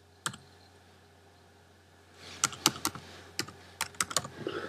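Fingers typing on a computer keyboard, a single click followed by a pause, then a quick irregular burst of close, crisp keystrokes over a faint electrical hum.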